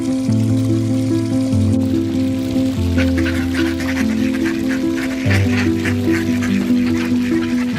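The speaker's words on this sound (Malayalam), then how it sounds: "കൊയ്ത്തു കഴിഞ്ഞ പാടശേഖരങ്ങളിലേക്ക് താറാവിൻ കൂട്ടം ഒഴുകിയെത്തുകയാണ്" A flock of ducks quacks continuously in harvested paddy fields in Kerala, many overlapping calls close by, with running water faintly underneath.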